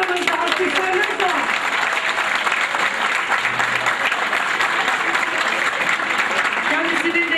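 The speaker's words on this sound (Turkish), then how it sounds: "Alkışlarınızla." Dense applause from a crowd at a village gathering runs without a break, many hands clapping close by at a steady, loud level with a few voices faintly mixed in.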